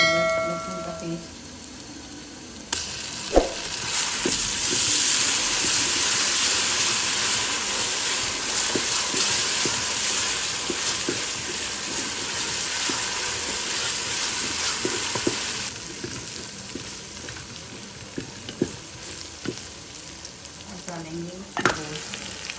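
Garlic paste hits a hot pot for turnip beef and fries with a loud, steady sizzle that lasts well over ten seconds, with occasional stirring clatter and brief speech near the start and end.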